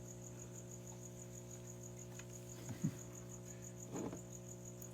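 Crickets chirp steadily inside a reptile tub, a constant high trilling with a low hum beneath and a couple of brief rustles, no talking.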